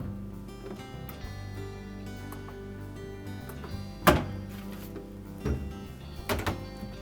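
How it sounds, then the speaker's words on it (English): A Whirlpool refrigerator's doors close with one firm thud, then a couple of lighter bumps, heard up close against a constant low hum from the unit. "Close the refrigerator doors again, and our repair is complete."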